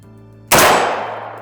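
A single rifle shot cracks on a shooting range, loud and sharp, its report decaying over about a second, with a low steady hum underneath.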